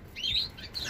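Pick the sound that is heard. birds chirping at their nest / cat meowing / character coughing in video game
birds chirping at their nest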